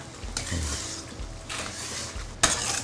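Stir-frying chicken in a pan for Thai drunken chicken: scraping and stirring strokes over a steady sizzle, with a sharp utensil clank near the end.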